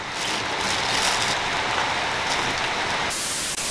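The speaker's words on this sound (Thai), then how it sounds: "ในกล้องนั่นได้ยินเสียงฝนอยู่เนาะ ได้ยิน ฝนตกครับตอนนี้" Rain falls around a floating-tent campsite in a swimming pool, a loud, close, steady hiss that continues evenly before thinning abruptly near the end.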